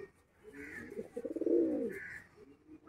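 A male pigeon with fully feathered legs, black beak and a closed tail gives a soft, low rolling coo, faint and close, with a quiet pause before and after.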